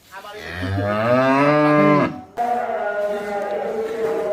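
A cow valued at 170,000 taka before Eid sacrifice gives a long, loud, close moo that rises and falls, followed by a second lower drawn-out moo.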